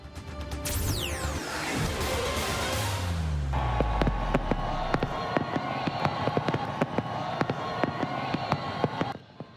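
New Year's countdown fireworks over the Arc de Triomphe in Paris: a rising whistle and deep booms, then a long run of sharp crackling bursts above a crowded avenue's steady roar, ending abruptly.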